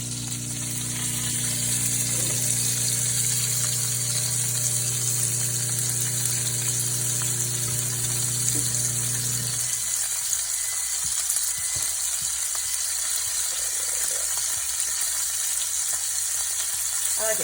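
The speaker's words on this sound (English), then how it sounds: "That bacon noise there." Steady, crackling sizzle of bacon frying in a pan, continuous and close, with a low humming microwave that cuts off partway through.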